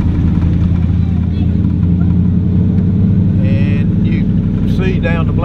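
A race car on the Daytona blacktop shifting into high gear, its engine a loud, steady, close drone that holds throughout with a few brief higher whines near the end.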